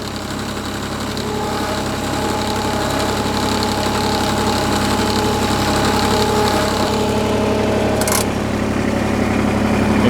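A Ventrac compact tractor engine runs at a steady idle-like drone while the machine drives slowly into a front attachment, constant and close with a brief metallic clunk near the end.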